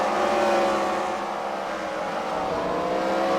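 A race car engine roars steadily under load as it accelerates into a turn on an oval track, loud and continuous with a sustained high drone.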